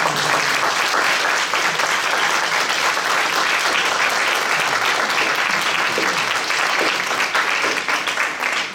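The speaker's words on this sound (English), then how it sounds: "Please give them a round of applause for this." Thick, sustained applause from an audience for an artist roundtable panel, a steady wash of clapping close and loud throughout with no voices over it.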